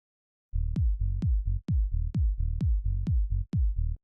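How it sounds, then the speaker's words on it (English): A punchy kick drum thumps on a steady beat while a low bass note fills the gaps between hits, the two trading places in tight alternation. "have your kick and bass actually play at different times to each other"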